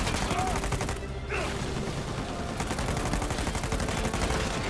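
Rapid gunfire in Uncharted 4: A Thief's End, including a Para 97, a continuous chatter of shots loud and close throughout a busy firefight.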